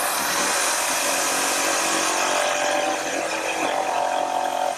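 A table saw nibbling away the leftover waste of a mortise in a wooden rocking horse part, its blade with the table tilted 12.5 degrees, whines as a steady, loud, broadband roar that runs unbroken throughout.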